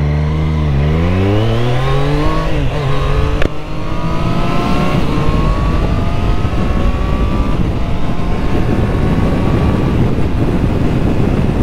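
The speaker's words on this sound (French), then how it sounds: "je fais une petite accélération, un petit départ arrêté" A 2024 Triumph Street Triple 765 R motorcycle pulls away from a standstill, its engine climbing steeply through quick gear changes into a sustained high-revving roar, loud and close with heavy wind buffeting and no talking.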